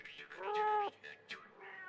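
A cat gives a drawn-out meow, then two shorter meows, close and clear against a quiet background during a French children's tale about Baba Yaga.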